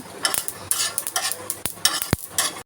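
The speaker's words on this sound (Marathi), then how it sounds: "याच्यामध्येच अर्धा चमचा पांढरे तिळ टाकलेले आहेत आणि तेही भाजून घ्यायचे आहेत" Peanuts and white sesame seeds rattle and scrape as they are dry-roasted and stirred on a hot griddle pan, with sharp metallic clinks of a spoon against the pan.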